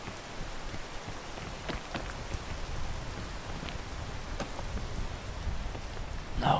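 Rain in the video game Peak pours in a constant soft hiss, with a few sharper drop ticks now and then and a slight swell at the very end.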